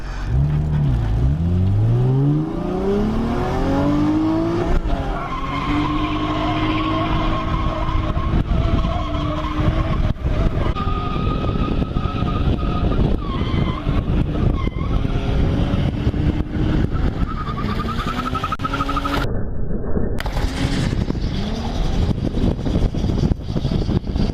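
A car skids hard at a track event, tires squealing close to a wall. Loud, wavering squeals rise and fall over a continuous roar of engine and road noise, sustained for most of the stretch, with no talking.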